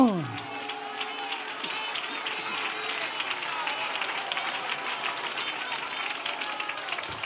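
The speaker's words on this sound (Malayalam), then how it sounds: "നിങ്ങൾ നന്നായി കൈയടിക്ക്" An audience at a Christian gathering claps continuously, a dense sustained patter of many hands with faint crowd noise, lasting throughout after a short opening tone.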